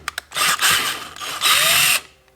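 A power drill bores through a metal bracket to widen an existing hole for a slightly larger bolt, running in two loud, close bursts with a brief pause between, a few clicks first and a falling whine as it spins down.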